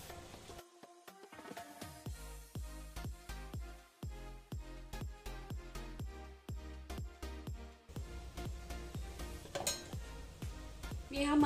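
A spoon clinks and scrapes against a metal pot while masale bhaat rice is mixed, a long run of rhythmic taps and stirring strokes heard close and fairly quiet, with no speech.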